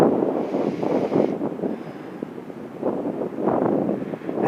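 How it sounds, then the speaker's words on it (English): Chilly wind blows over an open slope in the Sierra Nevada mountains of the Inyo Wilderness, a fluctuating low rumble of gusts against the microphone, rising and falling throughout with no talking. "And that wind is a little chilly."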